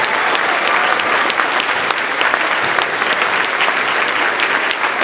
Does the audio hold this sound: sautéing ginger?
no